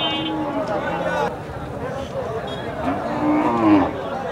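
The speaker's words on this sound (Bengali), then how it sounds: "এখানে একটি সাইওয়াল সার দেখছি আমরা।" A Sahiwal bull at a busy outdoor cattle market lets out a deep moo, with other cattle lowing nearby amid crowd chatter and people talking.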